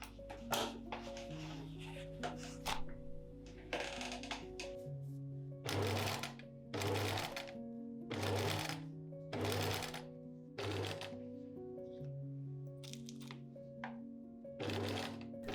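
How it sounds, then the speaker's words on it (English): A sewing machine stitches a long, large-stitch temporary seam on a yellow gown, running in rhythmic bursts of rapid whirring and needle thumps with short pauses between runs, close and fairly quiet. "This seam will be removed later before all the pattern pieces are sewn together, so I use a large stitch."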